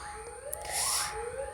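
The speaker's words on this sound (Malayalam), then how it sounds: "അടുത്തെത്തി ആംബുലൻസ്." An ambulance siren sweeps up and down while passing in the background behind a football video game session, a steady wailing tone that swells briefly in the middle, moderately loud.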